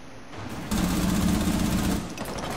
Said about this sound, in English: I'm out! I'm reloading!